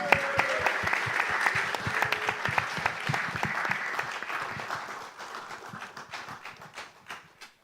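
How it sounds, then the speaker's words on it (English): Audience applause for the panelists at a staking industry summit conference, steady dense clapping that tapers off toward the end, with faint voices underneath. "give a round of applause to all the panelists"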